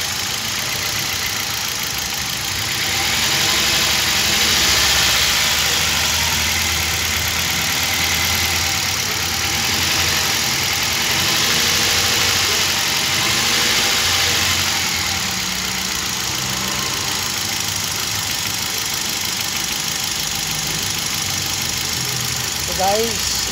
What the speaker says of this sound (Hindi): तो गाइस इंजन जर्क मार रहा है